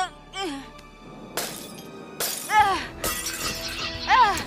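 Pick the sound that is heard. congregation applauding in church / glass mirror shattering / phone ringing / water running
glass mirror shattering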